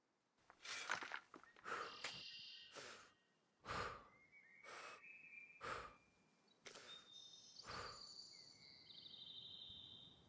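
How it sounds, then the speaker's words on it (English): Crickets chirp in a jungle ambience in the survival game SCUM. High-pitched chirps and trills come in separate bursts over a hushed background, with soft rustling between them and no talking. "Like the sounds of the crickets and stuff."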